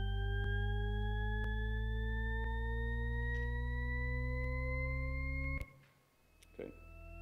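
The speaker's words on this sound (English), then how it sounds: "How many of you are familiar with Shepard tones?" A continuous Shepard tone demonstration at a lecture: a stack of steady sine tones gliding endlessly upward, loud and sustained for several seconds before abruptly cutting off, followed by brief faint clicks.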